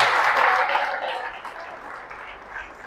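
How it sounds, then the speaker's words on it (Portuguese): A church congregation applauds together, a brief burst of clapping that peaks at the start and gradually fades away. "Agora aplaudam a Jesus."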